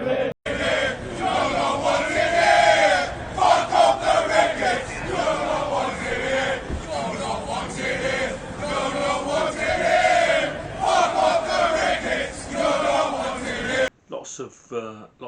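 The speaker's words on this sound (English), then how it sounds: "Lots of anti-Ricket rhetoric, lots of anti-Ricket songs" A large crowd of football supporters chants protest songs against the Ricketts owners at a fan demonstration outside a Chelsea match, a dense roar of many voices rising and falling together, loud and close, ending abruptly.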